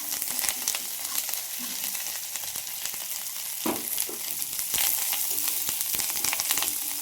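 Green chili, curry leaves and onion sizzle steadily in hot oil for kanda poha, a dense continuous hiss with occasional sharper crackles and a brief louder spatter midway, close and unaccompanied by voices.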